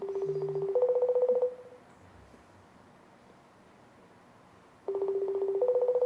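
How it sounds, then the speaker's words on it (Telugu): Two short bursts of electronic phone dialing tones, each a quick run of keypad beeps followed by a steady tone, separated by a few seconds of near silence; clear and fairly loud, no voices. "ఫోన్ లో నుంచి నాన్ వెజ్ కి కాల్ చేస్తున్నాం మనం"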